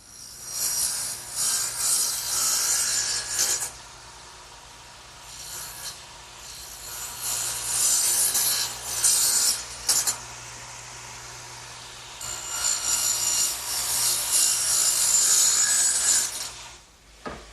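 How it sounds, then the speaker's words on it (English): A radial arm saw swung to an angle cuts wood pieces for a workbench: three loud, sustained cutting bursts of several seconds each, separated by brief lulls of lower machine noise. "I'm going to have to swing my radial arm 4 degrees on the other side of 0 to make these cuts."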